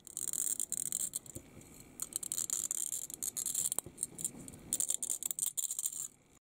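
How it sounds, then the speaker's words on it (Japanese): A tile cutter scores a ring around a glass rod, giving faint, close, gritty scraping and light rattling in uneven repeated strokes for about six seconds before stopping, with no voices. "タイルカッターで傷を1周入れます。"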